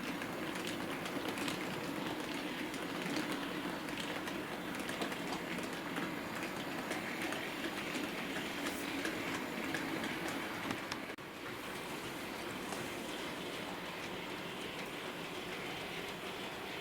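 A Bachmann Class 20 model diesel locomotive in BR Railfreight livery hauls Bachmann wagons and a weathered brake van around a wide bend of model track, producing a continuous rolling rumble with a light rhythmic clatter.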